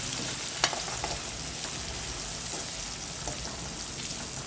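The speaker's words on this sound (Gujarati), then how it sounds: "હવે આને ધીમા ગેસ ઉપર ચડવા દે છે." Finely chopped mild green chilies cook in a pan over a low gas flame, making a soft, steady sizzle with a few small crackles and the occasional faint stir.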